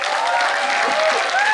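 An audience welcomes a company founder and CEO with loud, continuous clapping at a 20th anniversary public speaking event, while a faint tone and some voice murmur sit underneath.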